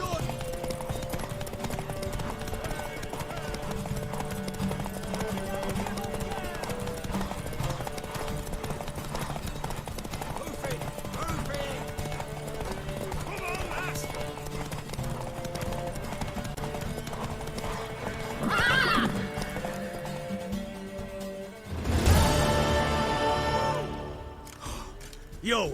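Horse hooves clip-clopping in The Witcher 3 video game, a steady clatter under background music and voices, followed by a louder neigh or snort near the end.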